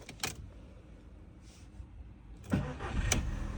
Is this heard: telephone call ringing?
no